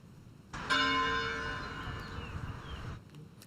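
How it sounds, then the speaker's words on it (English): A single strike of the church bell at All Saints Anglican Church in Windsor rings out clearly, its bright tone sustained and slowly decaying over steady low background rumble. "All Saints Anglican Church rang their bell 99 times"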